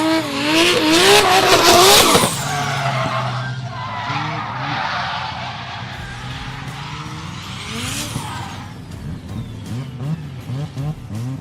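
A drift car on a qualifying run at Meremere Drift Park squeals its tyres loudly while the engine revs and bounces off the limiter. A sharp burst of skidding comes early, then sustained sliding with rising and falling engine pitch.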